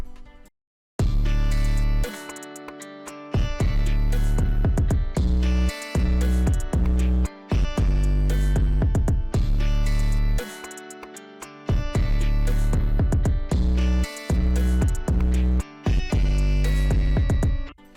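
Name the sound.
hyperpop drum beat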